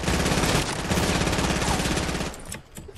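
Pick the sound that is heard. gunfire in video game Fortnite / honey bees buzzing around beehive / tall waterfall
gunfire in video game Fortnite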